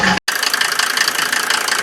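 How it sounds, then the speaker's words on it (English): A 1987 Mercedes 190D with the OM602 turbo diesel idles right after its hydraulic lifters were replaced, giving a loud, close, continuous clattering knock with steady rhythmic rattling after a brief cut near the start. "And here's the car after changing hydraulic lifters. There's the engine working."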